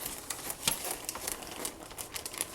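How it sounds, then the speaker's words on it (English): A bag of Swan Island dahlia tubers is pulled open, giving close, steady crinkling and crumpling of the packaging with quick rustling bursts throughout and no talk. "we're just gonna go ahead and get into this bag"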